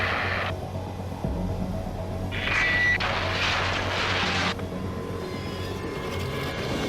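A fighter jet in Ace Combat 7 makes a damaged belly landing, heard as a steady heavy engine roar and rumble with bursts of loud broadband scraping and hiss in the middle, then continuing drone.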